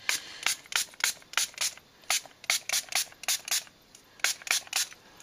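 Short hissing bursts of spray paint land on junk mail paper in a quick uneven rhythm, about a dozen puffs in all, close and fairly soft with no one speaking.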